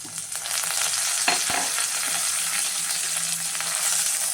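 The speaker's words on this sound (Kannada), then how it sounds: "ಎಣ್ಣೆ ಕಾಯ್ದೈತೆ. ಸಾಸಿವೆ ಹಾಕ್ತಾಯಿದ್ದೀನಿ. ಒಂದು 10 ಬೆಳ್ಳುಳ್ಳಿ ಜಜ್ಕೊಂಡಿದ್ದೀನಿ, ಅದನ್ನು ಹಾಕ್ತಾಯಿದ್ದೀನಿ. ಕರಿಬೇವಿನ ಸೊಪ್ಪು." Mustard seeds, garlic and curry leaves sizzle in hot oil for a South Indian sambar tempering: a loud, continuous hissing fry close up, with a couple of sharp crackles and pops early on.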